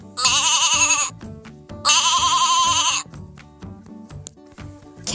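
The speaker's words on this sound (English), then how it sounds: "Sheep." A sheep bleats twice, loud and close, each call drawn out and wavering for about a second, with a light musical backing continuing underneath and between the calls.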